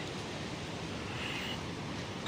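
Sea waves wash continuously onto Nandgaon beach on the Konkan coast, a steady broad surf roar heard up close with no voices.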